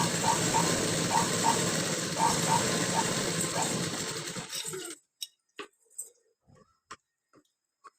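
A sewing machine stitches blouse pieces for a boat-neck, prince-cut blouse, running steadily and close for about five seconds before stopping, followed by a few sparse handling clicks in near silence.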